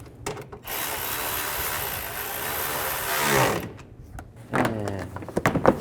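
A nut being tightened onto a stud on a 2007-10 BMW X3 thermostat housing, with a sustained whirring ratchet or power-driver run for about three seconds, then short bursts of mechanical buzzing and clicks, close and fairly loud.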